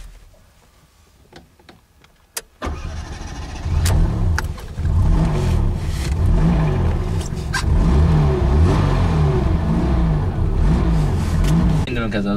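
A Fiat Panda with a 750 cc, 31-horsepower engine cranks and catches after a few faint ticks, then settles into a steady, loud running drone with throttle swells close by.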